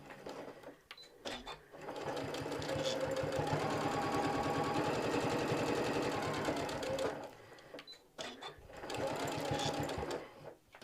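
A home sewing machine stitches fabric for a small handmade hostess gift, its close, loud run of rapid needle strokes lasting several seconds between short pauses and a brief second burst of stitching.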